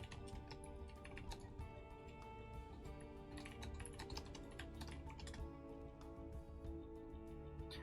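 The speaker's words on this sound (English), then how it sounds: "All right, good typing, Chris." Rapid, quiet clicking of fingers typing on a computer keyboard, irregular bursts of keystrokes continuing throughout at low level.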